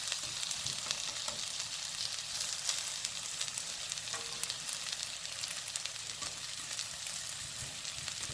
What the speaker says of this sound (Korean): 노릇노릇하게 굽면 돼요